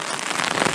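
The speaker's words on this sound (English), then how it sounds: "Still raining." Rain falls in a forest in autumn at a hammock campsite on the Loyalsock Trail, a dense, even patter of drops striking leaves and tarp nearby with no pauses.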